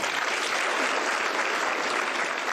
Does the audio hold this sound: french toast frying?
no